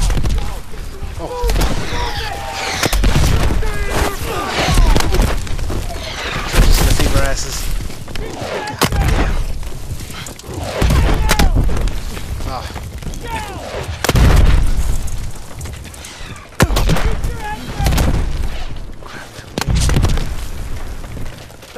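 Gunfire and explosions fill a Battle of the Bulge combat scene in Call of Duty WWII, with loud repeated booming blasts and bursts of shots in irregular waves, and voices shouting between them.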